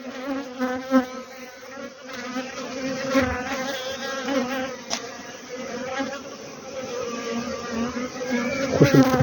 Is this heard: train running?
no